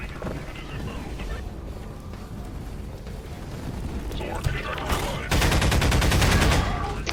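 Dense gunfire in the first-person shooter game Prospekt, rapid automatic bursts and heavy shots in continuous succession, growing louder near the end, with a voice talking over the shooting.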